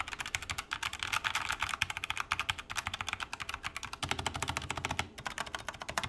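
Continuous fast typing on a tactile mechanical keyboard with Outemu Brown switches, a dense run of crisp, close clicks and thocks at a steady rhythm, with a brief pause near the end before typing resumes.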